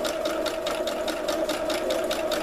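A sewing machine runs steadily as it stitches gathered tutu layers under the presser foot, with an even mechanical hum and a fast, regular rhythmic chatter throughout, close and unbroken.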